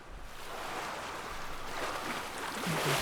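Sea water washes and surges around a sailing boat in Bannerlord, a steady broad rush of waves and wind that swells toward the end, alone and fairly close.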